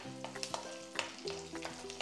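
Unpeeled garlic cloves fry in a little oil in a hot pan, giving a soft continuous sizzle with light crackles. Music plays over it.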